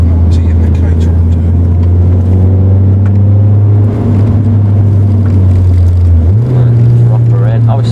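MG race car on the Croft circuit rounds the hairpin, its engine a steady loud drone with a pitch rise as the throttle opens on the exit, while a driver talks over it.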